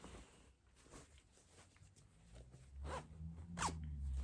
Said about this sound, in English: Just a little zip top project bag.